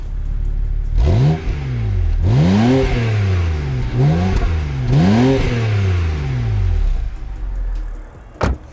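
A car engine idles loudly up close and is revved repeatedly, each rise in pitch falling back, ending with a sharp click.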